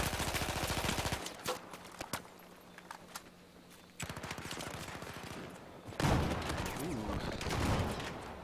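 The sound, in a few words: gunfire in a competitive shooter video game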